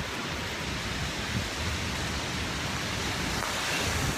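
Steady rain falling outdoors on a street, a dense even hiss and patter that holds throughout with no speech over it.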